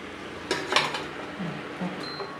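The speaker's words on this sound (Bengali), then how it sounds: "এবার আমি এটা ভালো করে নেড়ে দেব। এবার আমি এটা ঢেকে দেব।" A pot of chicken curry on an induction cooktop being stirred, with metal clatter and scraping of a spoon against the pot. A lid then clinks down on top, a few close, sharp knocks with no talking.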